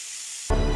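Tomato flesh dropped into a hot pan with garlic, a quiet hiss suddenly erupting into loud, close sizzling.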